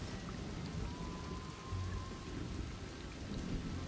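Steady rain pours throughout a Desperados III game scene, a dense continuous hiss with low rumbling underneath, loud and unbroken, with no voices.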